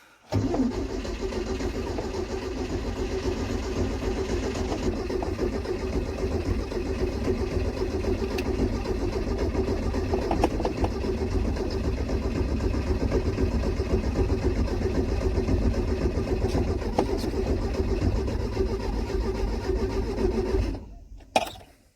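A Datsun 120Y's engine cranks and runs at idle in a continuous, close, rough mechanical drone for about twenty seconds, then cuts off abruptly near the end.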